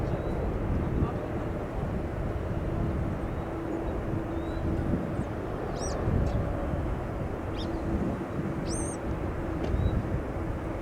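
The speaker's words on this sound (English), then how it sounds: "It was another Cargolux 747 with the Not Without My Mask special livery." A Cargolux Boeing 747 cargo jet approaching O'Hare International Airport, its broad steady engine roar filling the air from a distance, with faint bird chirps and some wind over the microphone.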